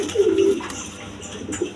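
Rajgolla pigeons cooing in a loft, several soft low throaty coos repeating in short phrases, close by, with light background noise and no speech.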